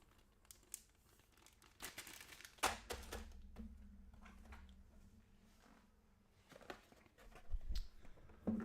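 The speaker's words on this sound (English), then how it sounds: "I'm going to have to just put a bunch of things just into a plastic bag." Close crinkling and rustling of a plastic bag as Conflict of Heroes: Storms of Steel board game counters are put into it, with soft clatters and handling noises coming in uneven bursts.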